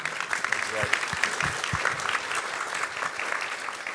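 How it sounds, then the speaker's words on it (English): An audience gives a steady round of applause for a medical technology conference panel, dense continuous clapping with a few low thumps and some faint voices underneath. "let's give a round of applause for our panel."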